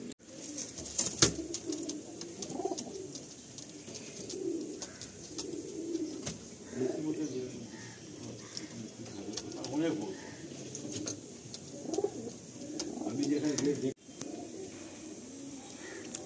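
Pigeons of a high-quality Andhra Fulsira breed coo repeatedly in low, throaty bursts throughout, fairly close, with faint background noise and occasional wing or cage sounds.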